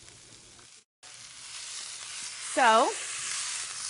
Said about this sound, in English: Now I'm going to brown, or sear is the cooking term, all 4 sides for 1 minute per side